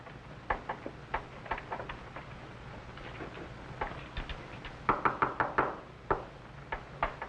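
Knocking on a wooden door in an old-time Swiss household drama, a series of sharp raps in quick irregular bursts, fairly close and moderately loud, with no talk over it.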